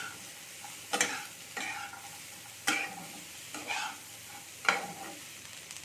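Spices are stirred in a frying pan with chili powder, turmeric and salt, giving several sharp scraping strokes of the spoon against the pan over a soft, steady sizzle, close up and without talk.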